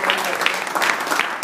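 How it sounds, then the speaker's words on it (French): A crowd applauds steadily, many hands clapping in a dense, even patter that stays fairly loud throughout. "Je vais vous demander d'applaudir"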